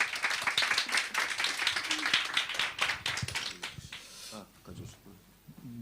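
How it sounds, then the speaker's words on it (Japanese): A small seminar audience at a church gathering in Japan claps to welcome a pastor to the stage, with distinct, fairly close claps that thin out and taper off, and voices murmuring briefly near the end. "拍手で迎えます。"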